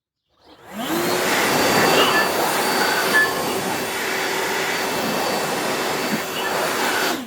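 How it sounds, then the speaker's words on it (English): A Harbor Freight Hercules rear-handle circular saw gets blown off with compressed air: a loud, steady rushing hiss starts abruptly and holds close and continuous to the end. "Let's blow off the saw."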